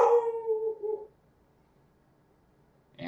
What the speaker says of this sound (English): And my dog's probably in the video now.